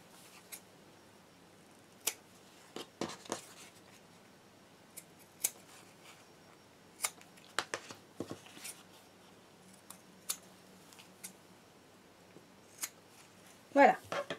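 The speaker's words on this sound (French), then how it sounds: "nous allons découper les morceaux de passepoil qui dépassent" Scissors trimming excess fabric piping off a sewn card holder: sharp, isolated snips spread unevenly over a quiet background, close to the ear, with brief spoken remarks between cuts.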